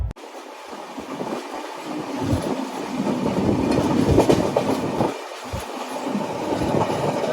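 Steady rumble and rhythmic rattle of a train rolling along the rails, heard from inside a third AC carriage, loud and continuous with a few heavier clunks.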